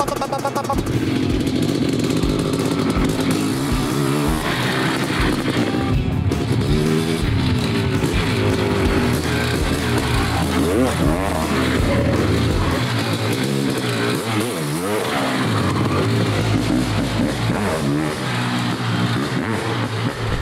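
A loud BMW M3 E36 engine revs hard again and again in a field, rising and falling pitch under shouting voices, with brief tire squeals.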